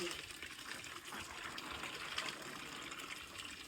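Mussels being washed in a basin of water, a steady broad splashing and sloshing that runs close and fairly loud throughout, with no talk over it.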